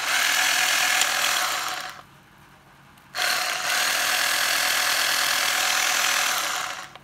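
Japanese electric drill running at a steady high-pitched whine, cutting off for about a second and then starting up again, loud and close with no talking.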